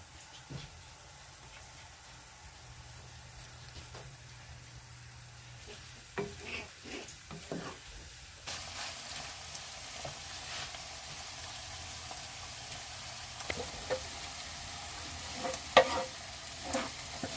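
Chicken pieces hit a hot pan of onions for spicy chicken pastil. A quiet stretch with a few clanks gives way to a loud, steady sizzle that continues to the end, with occasional scrapes of stirring.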